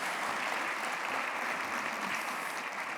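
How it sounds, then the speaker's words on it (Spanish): Audience applause at a national social outreach gathering, a steady dense wash of clapping from a crowd that holds even and moderately loud throughout, with no voices over it. "me den un aplauso porque estoy un poquito tímido"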